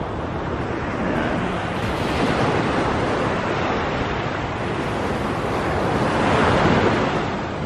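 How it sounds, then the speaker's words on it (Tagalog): Ocean waves roll and break on the shore at La Union, Philippines, in a strong, steady roar of surf that swells louder near the end, with gusts of wind buffeting the microphone. "Kasi tignan nyo yung alon ng lalakas."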